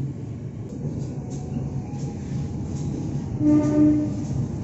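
A train rumbles steadily nearby as it passes the Bandung rail depot in Indonesia, with a low continuous roar, and a brief horn-like tone rises near the end.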